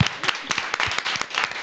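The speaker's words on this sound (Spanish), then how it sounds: "Gracias por sus aplausos." A studio audience at a Spanish television show claps in a brief burst of steady, mid-distance applause.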